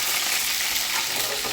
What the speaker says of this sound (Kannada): ಈಗ ಅದೇ ಕಡಾಯಿಯಲ್ಲಿ ನಾನು ದೊಡ್ಡದಾಗಿ ಹೆಚ್ಚಿರುವ ಈರುಳ್ಳಿ ಮತ್ತು ಕ್ಯಾಪ್ಸಿಕಮ್ನ ಫ್ರೈ ಮಾಡ್ತಿದ್ದೀನಿ